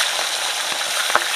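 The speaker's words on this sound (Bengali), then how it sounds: "এদিকে মাছ ভাজা হচ্ছে" Pieces of rohu fish fry in hot oil in a wok over a village stove, giving a brief, close, steady crackling sizzle with one small spatter.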